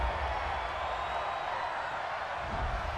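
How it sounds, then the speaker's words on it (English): Football stadium crowd at an Oakland Raiders versus Miami Dolphins game reacting to a roughing-the-passer penalty, a steady, distant wash of crowd noise with a faint swell toward the end. "this crowd does not like that call"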